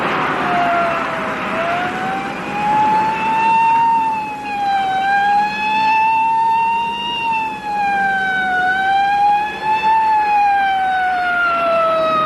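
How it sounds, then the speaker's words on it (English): A police car siren wails continuously close behind, its rising and falling tone sweeping in a slow, steady cycle over a low road rumble. "There's a police car right in back of us"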